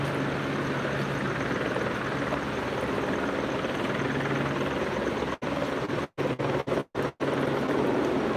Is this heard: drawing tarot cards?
no